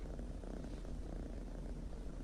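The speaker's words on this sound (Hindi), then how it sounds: "मैं तुम्हारी बिल्ली से दोस्ती कर रही थी।" A cat purrs close and softly in a steady low rumble, continuous and alone for a couple of seconds.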